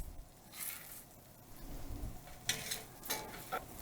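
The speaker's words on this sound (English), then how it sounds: "we're going to add a little bit more butter, and then we're going to cook our burgers" A black bean burger cooks in butter and olive oil in a pan, producing a soft, low sizzle with brief bursts of louder crackling and occasional shuffling of the patty.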